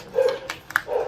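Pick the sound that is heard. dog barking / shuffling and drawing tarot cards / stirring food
dog barking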